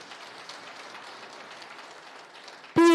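A crowd at a county program launch in Kenya claps steadily and fairly distantly in sustained, even applause to welcome the Principal Secretary, cut off near the end by a sudden loud tonal burst.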